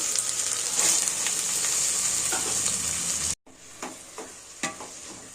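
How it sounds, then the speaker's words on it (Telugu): Tomato pieces sizzling and frying in a pan while coconut rice is being prepared, a steady loud hiss with a few stirring scrapes, briefly cut off and then resuming more softly. "ఇంకా టమాటా ముక్కలు వేసేస్తాము"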